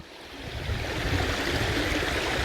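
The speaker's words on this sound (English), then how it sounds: "So here's our little babbling brook." A small babbling brook in the Trout Valley Conservation Area, running fuller after recent rain, gives a steady, close rushing and gurgling of water that builds slightly, with no voices.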